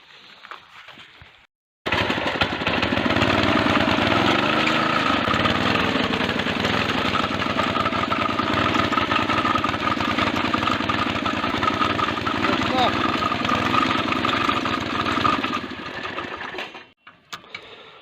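A light walk-behind tractor engine runs steadily with an attached vibrating digger, giving a loud continuous buzzing drone with rapid vibration that starts abruptly and fades near the end.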